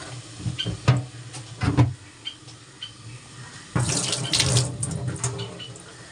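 Water runs from a kitchen tap while cut fish is being washed, at first broken into short splashing bursts, then turning into a steadier, louder stream splashing into the sink, close by.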